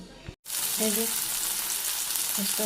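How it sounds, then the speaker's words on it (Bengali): Bora fritters fry in a small amount of oil, making a steady, close hiss and sizzle throughout with brief soft clicks of stirring. "বড়া করছি আমি একটু কম তেলেই করি"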